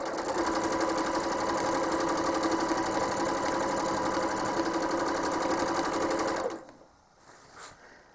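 A home sewing machine machine-quilting a quilt runs at a steady, loud, fast stitching drone for about six and a half seconds, then stops abruptly, leaving a quiet room with a faint soft rustle.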